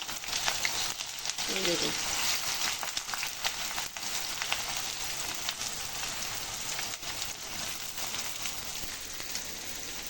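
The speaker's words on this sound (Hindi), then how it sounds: "और अब कढ़ाई हो गई है गरम, तो अब डालते हैं इधर प्याज।" Onions frying in a hot kadai give a dense, steady, close sizzle with some stirring, while a voice speaks briefly over it.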